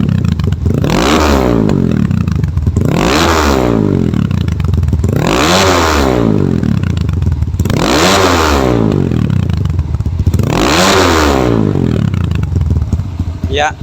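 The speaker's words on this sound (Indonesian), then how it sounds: "itu dia suara dari Kawasaki KLX 140 RF" Bored-up Kawasaki KLX 140 RF dirt bike engine, loud and close, revved in five long repeated sweeps that climb and fall back, with steady engine clatter between them.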